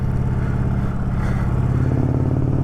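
An Indian Challenger motorcycle shifting into second gear a little harshly: a loud, close, steady engine rumble with a brief clunk in the middle, and no talk.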